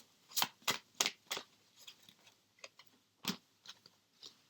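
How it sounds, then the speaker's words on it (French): Cards are shuffled and drawn by hand: a few crisp slaps and flicks up front, then sparser, quieter card handling. The sounds are close and faint, and nobody speaks. "je tire encore quelques cartes pour voir un petit peu"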